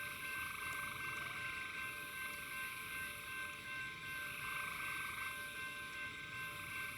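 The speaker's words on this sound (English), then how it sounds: "there's another train coming. I can hear it, the whistle or the horn." A faint, distant train horn or whistle holds a steady tone over a constant low rumble of rail noise, with no speech.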